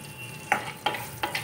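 Tempering spices frying in a spoonful of oil in a kadai, a soft sizzle punctuated by three sharp stir-scrape clicks, close and without talk.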